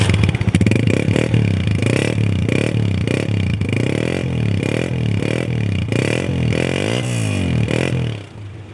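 A Honda 125 motorcycle engine revs up and down in repeated surges, loud and close, with a rattly mechanical edge before settling at the end.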